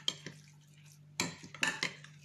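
Couscous stuffing scented with citrus being mixed for a stuffed chicken, with a few scrapes and clinks of a utensil against a bowl, close and quiet, separated by short pauses.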